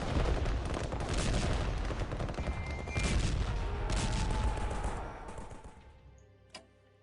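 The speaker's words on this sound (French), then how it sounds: "L'artillerie va détrancher ce corps sur Strasbourg." Artillery bombardment in the WWI strategy game Strategic Command: World War 1, shelling a corps near Strasbourg: a dense, continuous barrage of overlapping blasts and crackling fire for about five seconds, then fading, with one sharp report near the end.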